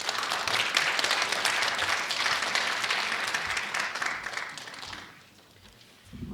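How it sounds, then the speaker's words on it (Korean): An audience at a Korean research presentation on therapeutic horse riding breaks into sustained applause to welcome a professor, a dense steady roar of clapping that tapers off near the end. "큰 박수로 맞아주시기 바랍니다."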